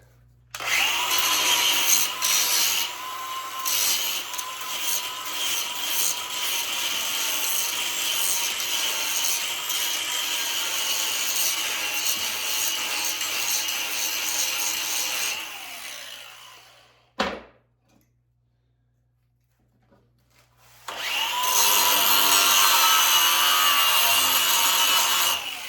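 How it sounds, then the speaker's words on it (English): Angle grinder grinding a weld off steel in a home workshop while building a diesel electric submarine, a loud continuous abrasive roar that runs about sixteen seconds, stops with a short knock and silence, then starts again. "Just grind that off and start over."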